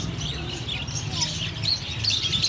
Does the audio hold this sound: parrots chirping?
yes